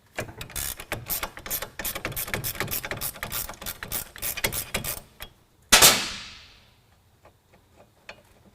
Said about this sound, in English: We're going to pull the brake caliper off.